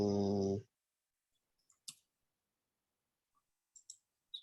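Several sharp computer mouse clicks, close and quiet, scattered irregularly in pairs and singles after a brief burst of voice at the start.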